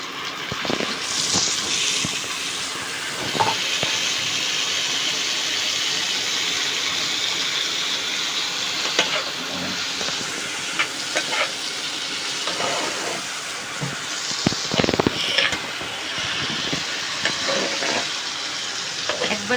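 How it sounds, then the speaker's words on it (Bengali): Pea pod shells sizzle loudly with onion in a hot pan, a steady frying hiss broken by scraping stirs and clatters of the utensil, close up and with no voices. "দেখুন পেঁয়াজটা হালকা ভাজা হয়েছে এবারে এই যে মটরশুঁটির যে খোসাটা এটা দিয়ে দিচ্ছি"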